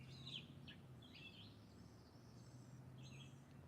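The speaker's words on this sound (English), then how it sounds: "Do I see any birds? No, but I hear them." Birds chirp and tweet faintly outdoors in short, scattered calls over a low background hum, distant and quiet.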